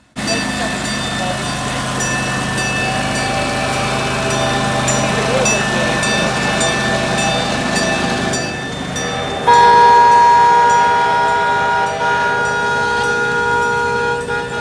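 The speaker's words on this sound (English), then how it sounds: "After that, we head to the micro train station where we saw 1070 depart." A miniature train, number 1070, departs a micro train station at a steam and power show, its steady engine rumble and tonal whine continuing throughout, growing louder and brighter after the midpoint, with a faint crowd murmur beneath.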